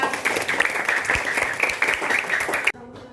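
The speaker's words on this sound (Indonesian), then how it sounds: "tepuk tangan untuk kita semua" Students and their teacher clap together in a classroom, a dense, uneven patter of hands that runs steadily and then cuts off abruptly near the end.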